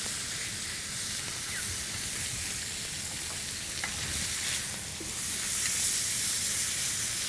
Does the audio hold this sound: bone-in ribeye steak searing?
yes